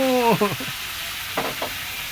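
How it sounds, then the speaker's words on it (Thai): Batter-coated shrimp sizzle in hot oil with a steady hiss, while a voice briefly sounds at the start and again midway over the frying. "กุ้งชุบแป้งทอด"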